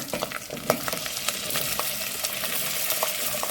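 Potatoes, green beans and eggplant sizzle loudly in a hot pan, with a steady crackle broken by sharp scrapes and clinks of stirring.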